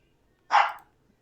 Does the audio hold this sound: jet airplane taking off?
no